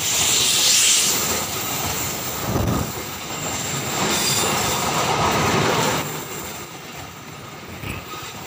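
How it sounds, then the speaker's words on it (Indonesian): Argo Wilis passenger train in green ketupat livery passing straight through Ciamis station without stopping, a loud steady rumble of carriages and wheels with faint squeals, rolling on close by throughout. "Argo Wilis akan melintas langsung di stasiun Ciamis."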